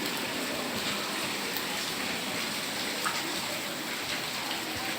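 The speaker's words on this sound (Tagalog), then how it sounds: "Maulan." Heavy rain falls steadily during a typhoon, a dense, even hiss of water on surfaces that stays loud and unbroken throughout, with no talk over it.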